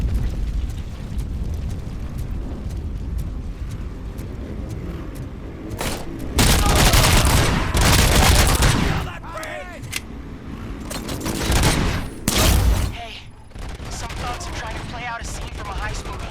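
Gunfire in the Robocop: Rogue City video game, heavy bursts of shots and booms in loud clustered volleys between quieter stretches, with a voice talking in places.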